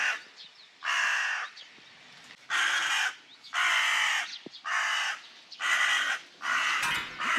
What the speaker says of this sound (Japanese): めっちゃカラスに吠えられてる